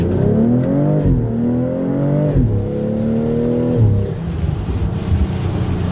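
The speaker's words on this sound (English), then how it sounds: "you can still hear the turbo spooling" A BMW X3/X4 M40i engine fitted with an MST intake revs up and down through low gears, heard from inside the car, with a faint whistling turbo spool rising over the droning intake, no talking.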